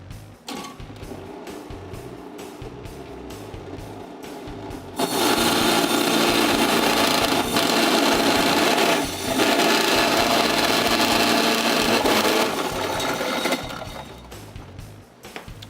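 A Waring kitchen machine processes frozen streusel dough, starting with light clatter before a loud, steady grinding whir kicks in for about eight seconds, dipping briefly midway, then winding down to intermittent rattling at the end.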